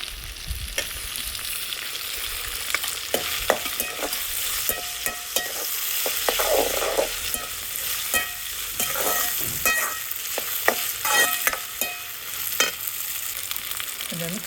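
Big onions and tomatoes sauté in a pan for a village-style chicken curry, a steady sizzle with frequent clinks and scrapes from a stirring spoon, close and without speech.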